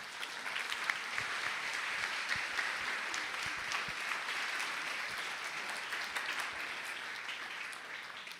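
A congregation applauds during a Sunday church service, a dense, steady wash of many hands clapping together that carries on without pause for about eight seconds at moderate distance.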